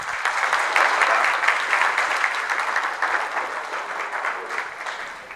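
A crowd applauds at an evening flower market opening ceremony, steady dense clapping held loud and even for several seconds before slowly thinning toward the end.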